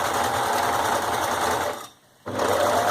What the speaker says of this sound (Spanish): Podemos ir cosiendo despacio sin sacar los alfileres, o si prefieren ir sacándolos a medida que van cosiendo.